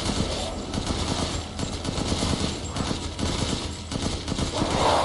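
Gunfire in the video game Resident Evil Village, rapid continuous bursts of shots rattling almost without pause over a dense, loud backdrop.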